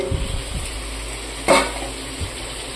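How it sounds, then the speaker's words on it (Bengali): Pumpkin and eggplant fry with bitter gourd in a pan, a steady sizzle broken by a sharp clatter as pieces drop in and a few spatula scrapes and knocks, with no talk. "এবার আমি কুমড়ো আর বেগুনটা দিয়ে দেবো"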